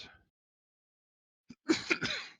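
A short burst of coughing up close, two or three rough hacks after a brief silence, with a faint vocal sound at the very start.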